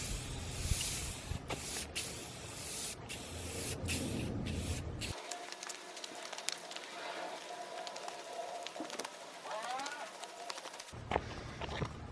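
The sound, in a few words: spraying clear coat onto a Saab 9-3 grille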